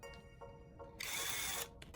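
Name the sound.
drill boring a hole in copper tubing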